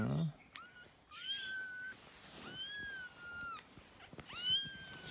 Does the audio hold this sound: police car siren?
no